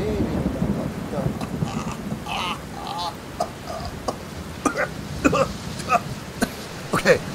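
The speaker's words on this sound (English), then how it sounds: "We've got, you see it, it's raining." Rain falls steadily outside on an evening, with thunder rumbling low in the background and a few short louder bursts near the end.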